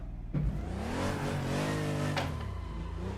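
A car engine in a driving video game revs hard on the throttle, its harmonics climbing then easing, loud and close, with no talk over it.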